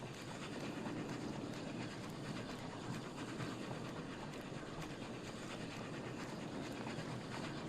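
Train running along its track in the video game Oddsparks, a steady continuous rumble with faint repeated clicks, loud and unbroken throughout with no talk.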